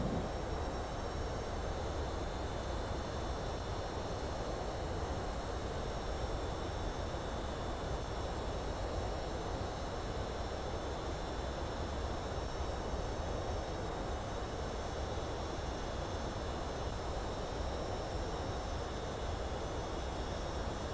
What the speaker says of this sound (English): I need to turn up the engine sound as well.